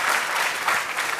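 Audience at a Ghanaian Heads of Mission and Envoys' orientation conference breaks into sustained applause, a dense, steady wash of clapping that fills the whole moment without pause.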